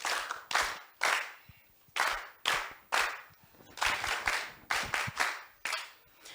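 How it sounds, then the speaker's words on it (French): Applause from candidates and audience at a live contest event, delivered in a dozen or so sharp bursts of clapping that start and stop abruptly, fairly close and loud, with no talking over it. "Même vous, les candidats, vous pouvez applaudir les uns pour les autres."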